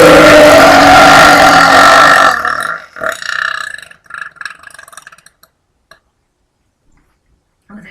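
A single very loud, long burp rumbles for about two seconds close up, then cuts off into near silence with a few faint clicks and breaths.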